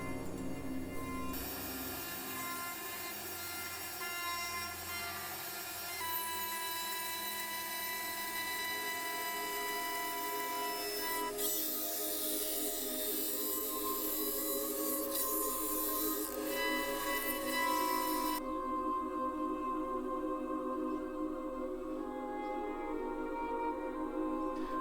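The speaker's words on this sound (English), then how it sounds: "First one being roughing, where CNC makes a rough shape so that the second stage will have less work." A CNC machine roughs out a 3D carving for a World of Warcraft longblade prop, a steady loud machining whine and grind running the whole time with shifting tones as the cutter moves, no voices.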